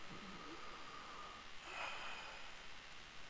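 A Red Dead Redemption 2 character takes a single soft, breathy inhale midway through a quiet doctor's examination, faint against low background hiss.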